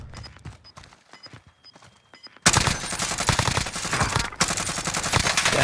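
Rapid gunfire in a video game, starting faint and sparse, then erupting into a loud sustained burst of automatic shots that rattles on to the end.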